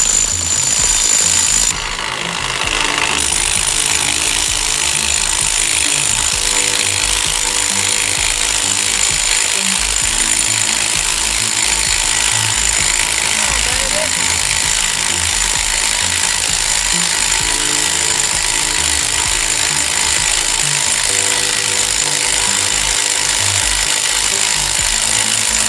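An impact wrench rattles in long continuous bursts while it removes the 36 mm axle nut on a 4x4 S10 Blazer in a garage. The hammering is loud and close and runs through most of the stretch, with a brief pause near the start.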